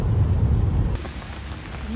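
Heavy rain pours steadily with a deep, rumbling roll of thunder underneath, loud at first and easing slightly midway, with no voices.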